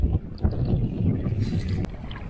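Wind on a steep mountain portage trail in Temagami rumbles and buffets the microphone in low, uneven gusts, with a brief sharp rustle near the end.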